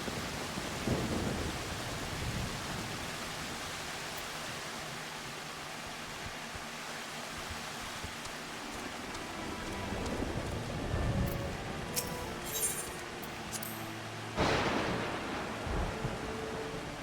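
Rain hisses steadily in a Final Fantasy XIV scene while low rolls of thunder rumble near the start and again later, with a louder crack close to the end.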